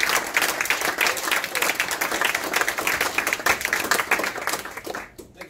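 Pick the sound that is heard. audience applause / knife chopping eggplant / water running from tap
audience applause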